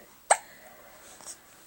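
A baby gives a single sharp hiccup, close and abrupt, followed by a faint softer catch of breath in a quiet room.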